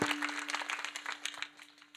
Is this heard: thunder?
no